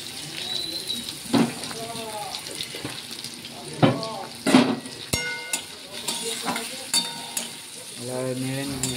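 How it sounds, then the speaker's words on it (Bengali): Carrots being stirred in a pot of frying oil for khichuri, with a spoon scraping and clinking in bursts over a steady sizzle; a voice talks intermittently alongside. "নেড়ে নিচ্ছে ভালো ঠিক আছে গাজরটাকে"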